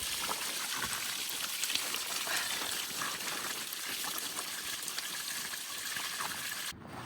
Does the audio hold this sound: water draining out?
yes